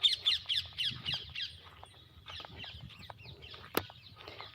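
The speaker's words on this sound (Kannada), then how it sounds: "ಆಹಾ ಗಿಳಿಗಳು ನೋಡಿ ಎಷ್ಟು ಚೆನ್ನಾಗಿ ಸೌಂಡ್ ಮಾಡ್ತಾ ಐತೆ" Parrots squawk in a village setting, harsh rapid calls clustered at first and then scattered, moderately distant, with a faint low background hum and one sharp click near the end.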